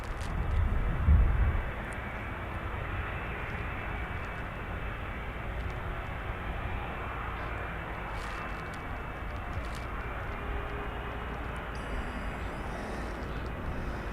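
A Ryanair airliner departing Birmingham Airport bound for Budapest gives a steady, distant jet roar that holds evenly throughout, with a brief low thump near the start.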